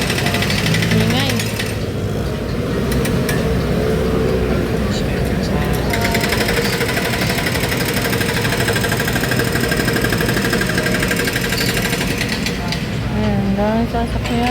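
Vehicle engines idling and rumbling steadily in street traffic on a rainy day near a bus stop, continuous and fairly loud, with a person talking over it at times.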